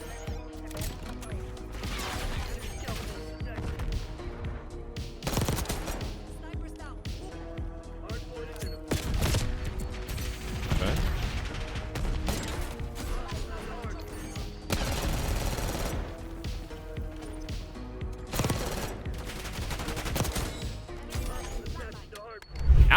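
Jackal SMG firing in Black Ops 6, repeated rapid-fire bursts with pauses between them, loud and close, mixed with game effects and a voice talking over much of it.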